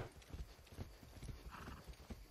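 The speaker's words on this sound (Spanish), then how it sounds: "aquí está el puesto en el que podemos dejar este caballo del ejército" An army horse in Far Cry 6 trots with a quick, regular clip-clop of hooves and gives a short neigh partway through, fairly quiet game audio.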